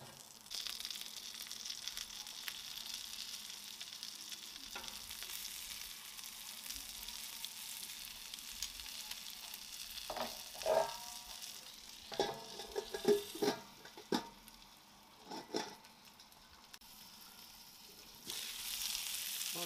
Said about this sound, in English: frying up pretty good now